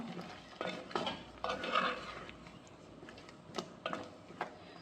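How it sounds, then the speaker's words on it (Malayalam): A spoon scrapes and stirs Kerala-style kaalan curry in a pot with soft irregular clinks and a low steady background hiss, no voices. "ഒന്ന് ഇളക്കി കൊടുക്കാം."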